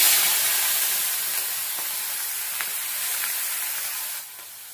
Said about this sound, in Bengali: এ দেখো হলুদ লবণ মাখানো চিংড়ি মাছটা এবার একটু ভেজে নেব।